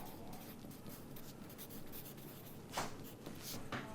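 Pencil scratching across paper in short, quiet strokes, with a few sharper scrapes near the end; close and steady with no talking.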